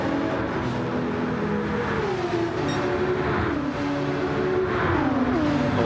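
Two Nissan GT-R race cars and a Porsche in a racing video game at Deep Forest Raceway, their engines loud and close, droning and revving steadily with rising and falling pitch as they run in a tight pack.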